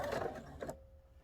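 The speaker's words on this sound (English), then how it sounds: "I'm bringing this seam up to the center and stitching" A sewing machine briefly stitches straight across a seam in a short, close burst, then stops, leaving a faint steady hum.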